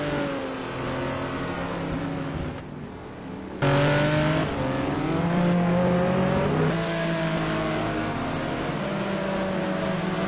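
Touring race cars competing at Anderstorp in the STC Black Cup 2009, engines roaring and revving at full throttle with rising and falling pitch as cars pass, loud and continuous.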